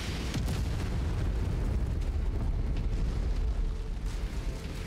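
Artillery shells detonate in rolling bursts across a battlefield in MechWarrior 5: Mercenaries, deep booms rumbling continuously over a few seconds with no talk.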